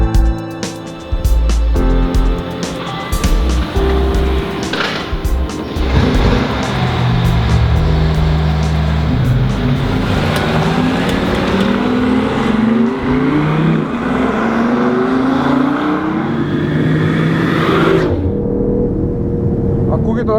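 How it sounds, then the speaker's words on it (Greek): A BMW i8 on a race track in sport mode, its engine and exhaust roaring loud and close throughout with rising and falling revs, with talk over much of it. "Ακούγεται ωραία στο sport πρόγραμμα. Σαν ένας ατμοσφαιρικός V6 με άγρια εξάτμιση."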